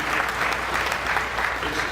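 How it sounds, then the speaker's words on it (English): Fans applauding at the 2018 International Boxing Hall of Fame induction ceremony in Canastota, a continuous crowd clapping that holds evenly throughout. "Give yourselves a round of applause"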